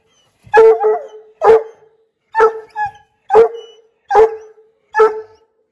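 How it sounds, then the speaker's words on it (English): Coonhound in a dog box barking loudly and close, six sharp, resonant barks at a steady rhythm of roughly one per second, with a brief yip between. "Normally I wouldn't tolerate barking in the box."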